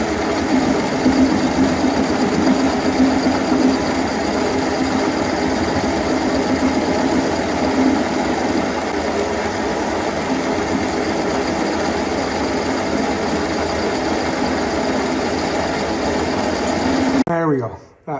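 A machine steadily cutting threads off a metal part to leave a 60-degree chamfer hums and whirs continuously, close and loud, then winds down abruptly at the end.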